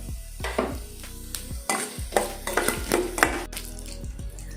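Chana dal, urad dal and cumin frying in ghee, with a steady crackling sizzle broken by repeated scraping and stirring strokes of a spoon against the pan, close and clear with no talking.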